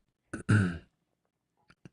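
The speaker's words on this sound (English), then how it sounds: "I got a cough" A person clears their throat with one short rasp, then a longer harsh cough-like burst, followed by a few faint small throat sounds in near silence.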